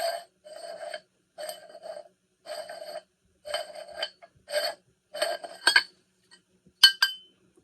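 A small mortar and pestle is taken apart, with a series of bright, sharp clinks and scrapes from the close pieces in a regular rhythm, then a louder clack near the end.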